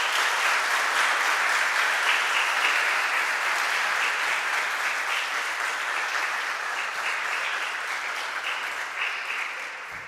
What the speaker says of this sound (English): please stand and give a round of applause to your family members, the faculty and staff who helped you reach this milestone